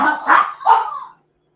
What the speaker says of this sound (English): Shorty decided to play with the dogs.